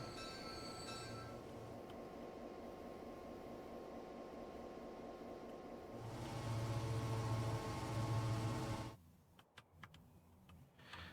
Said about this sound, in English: That's a big old train coming out of there.